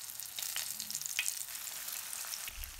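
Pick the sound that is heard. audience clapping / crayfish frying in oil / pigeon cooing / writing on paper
crayfish frying in oil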